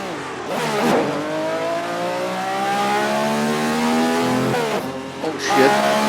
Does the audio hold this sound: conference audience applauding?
no